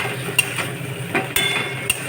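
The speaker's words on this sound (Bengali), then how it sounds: "আলু দিয়ে ওটা নাড়াচাড়া করছি" A utensil stirs fried elephant foot yam and potatoes through spiced gravy in a pan on low heat, giving soft scraping strokes with a few sharper clinks over a quiet sizzle.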